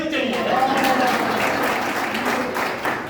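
Audience applause at a quiz event in a Jain temple in Bengaluru, a steady dense wash of clapping lasting the whole stretch, with voices mixed in underneath.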